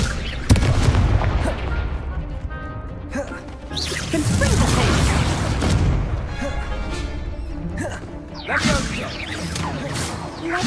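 Confringo fire spell blasts in Hogwarts Legacy, several loud booming explosions with whooshing, crashing bursts spaced across the stretch amid busy combat sounds.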